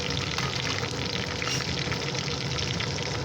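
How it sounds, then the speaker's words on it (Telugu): Mustard seeds, curry leaves and lentils frying in hot oil, an even, close crackling sizzle that runs steadily throughout. "ఈ విధంగా ఫ్రై చేసుకోవాలి."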